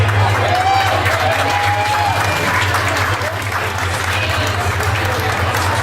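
Guests at a wedding reception applaud and cheer as members of the wedding party are introduced, loud sustained clapping over a low steady hum of music.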